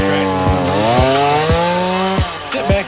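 A chainsaw runs loud and close while cutting up a fallen tree during a solo yard cleanup, its engine buzz rising and dipping in pitch as the chain bites in, punctuated by repeated revs.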